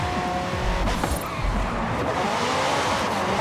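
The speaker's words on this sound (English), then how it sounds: "There you go, and you can drift on your way out" A tuned 900 hp McLaren 650S Coupe drifts in Forza Horizon 5, its engine roaring steadily while the tires squeal through the slide, loud and close for the whole stretch.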